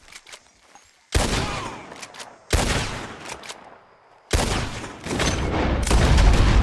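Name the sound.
gunfire in the Red Dead Redemption 2 video game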